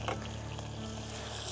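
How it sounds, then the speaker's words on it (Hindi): Onion and green chili tempering in hot oil with asafoetida, cooked in a camper van on the road from Delhi to Ladakh; a steady close sizzle and crackle, no talk. "हींग डालो जी, प्याज और हरी मिर्च का तड़का"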